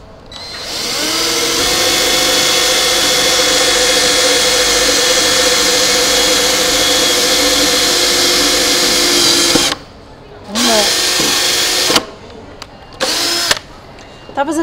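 A power drill runs steadily for nearly ten seconds driving a screw into wood while building a wooden trolley, loud and close, then stops and gives a few shorter bursts with brief pauses between them.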